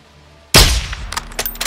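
A single loud, sharp sniper rifle shot in the Call of Duty Modern Warfare II campaign, with a sudden crack and a long booming tail, followed by faint clinks and rattles.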